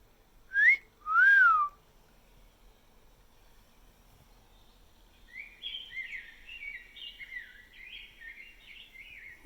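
A parrot whistles two sharp rising-falling notes close by, then a softer run of warbling, chirpy whistles follows after a pause, faint and alone without talk.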